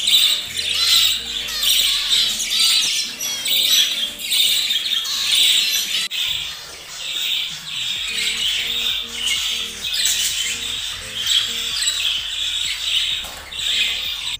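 Finches and budgies call from a crowded aviary in cold weather, a dense, steady mass of high chirps, squawks and tweets close by, continuing without a break throughout.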